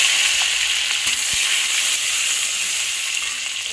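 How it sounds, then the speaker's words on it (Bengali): Tomato frying in hot oil with whole cumin seeds and green chilies for an egg omelette curry gives a loud, steady close-up sizzle with a few faint ticks. "আর দিয়ে দিলাম টমেটো।"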